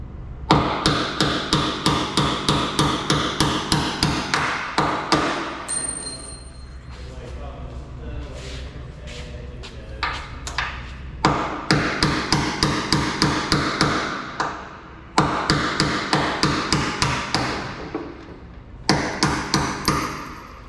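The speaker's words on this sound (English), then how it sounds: "I'm gonna use a punch to get that bolt out" A hammer drives a steel punch against a bolt on the wingtip tank of a Cessna 402 aircraft wing, loud ringing metallic blows in rapid repeated bursts with short pauses between sets.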